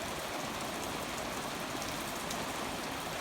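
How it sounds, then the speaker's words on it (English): Light summer afternoon rain falls steadily on surfaces ahead of a thunderstorm, a dense, even patter close by with no voices. "it's a light rain, so it's not going to hurt nothing."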